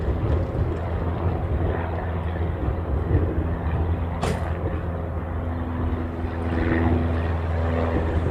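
Airliner at a Hawaii airport heard from a distance, a steady low engine rumble and whine that holds on throughout, moderately loud, with no voices.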